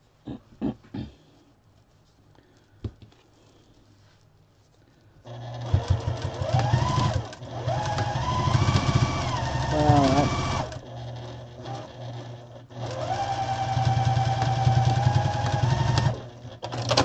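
A sewing machine stitches a chicken-shaped pot holder, running in two long steady bursts of loud whirring motor hum and rapid needle rattle, separated by a brief pause, after a few quiet handling clicks at the start.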